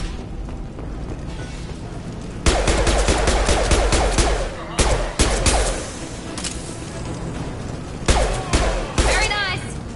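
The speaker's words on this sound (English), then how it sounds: "The Blue Suns and Vorcha shooting anything that moves." Blue Suns mercenaries and Vorcha exchanging gunfire in Mass Effect 2, loud bursts of automatic fire and booming shots coming in clustered volleys with brief pauses, close and dense against a low background rumble.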